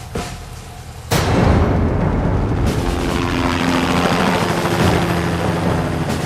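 Loud, continuous roar of approaching helicopters' rotors and engines rises suddenly and holds steady, with a deep low thrum beneath a broad rushing noise.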